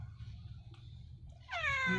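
A hungry pet cat named Gray meows loudly and close, one rising and falling cry near the end after a stretch of low background rumble.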